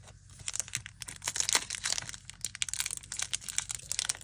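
A Pokémon Obsidian Flames booster pack being torn open up close, with bright crinkling foil and rustling card handling in quick irregular bursts, fairly quiet and free of speech.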